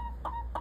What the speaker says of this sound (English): You guys can see my chickens, and they're like wondering what I'm doing here.